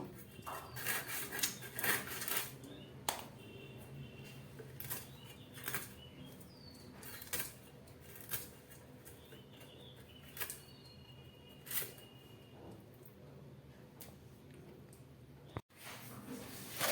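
A knife cuts up fish in a quiet kitchen, giving scattered, soft wet chops and scrapes spread at irregular intervals across a faint background.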